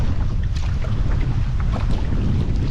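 Strong wind rushes over a lake during a canoe trip on Catfish Lake in Algonquin, a loud, constant low roar of microphone buffeting with occasional brighter gusts and no talking.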